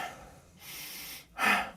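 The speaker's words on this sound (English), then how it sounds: "just start breathing in a way that's inhale emphasized." Breathing that stresses the inhale, in three audible breaths: a soft one, a longer steady inhale, then a sharper, louder intake of air. The room is quiet and no one speaks.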